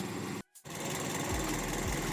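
Idling 2012 Toyota Vios 1.5E with its 16-valve VVT-i petrol four-cylinder, a steady close ticking hum that drops out for a brief gap, then resumes with low wind thumps.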